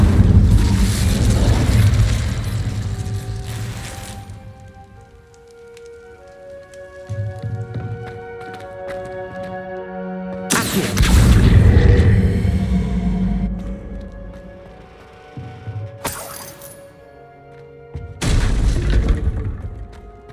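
Fiery spell bursts in the Hogwarts Legacy video game, three separate loud whooshing booms with crackling tails, spaced several seconds apart, with lingering tonal hum between them and no talk.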